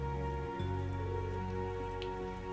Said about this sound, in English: And it started raining so suddenly